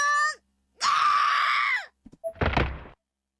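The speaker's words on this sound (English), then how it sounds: "A primal scream erupted from Naomi's floating body" Screams burst out in a horror video game, a short cry followed by a longer loud scream and then a rough groaning thud, with no speech.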